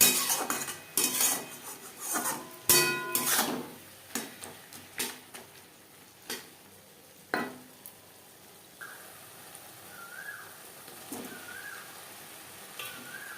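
A utensil stirs salt, turmeric and spices into onion and tomato in a pan for a silver carp curry with capsicum, with repeated scraping clinks, dense at first and then spaced out, close by, while birds chirp faintly in the background.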